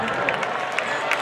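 A stadium crowd at a UIL 2018 high school marching band awards ceremony applauds student leaders lined up on the football field's 50-yard line, a steady wash of distant clapping and cheering for a brief moment.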